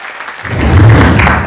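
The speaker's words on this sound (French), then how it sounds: "ça mérite de très chers applaudissements" Applause at a free restaurant event in Côte d'Ivoire, a brief swell of clapping rising after a quiet start and holding steady, with noisy low rumble beneath.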